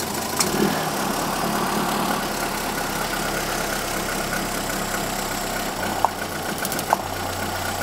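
An engine runs steadily after ignition work, its idle shifting in pitch as the revs change, with a continuous close drone and a few sharp clicks near the end.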